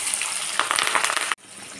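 Onion and curry leaves sizzling in hot oil, a steady broadband hiss with small crackles, close and fairly loud, cutting off abruptly near the end to a quieter hiss.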